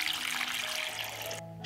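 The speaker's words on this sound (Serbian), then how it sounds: "U šerpu sipam vodu do visine poklopca." Tap water pours steadily into a cooking pot lined with a cloth and holding glass jars, a close, even splashing rush that stops abruptly near the end.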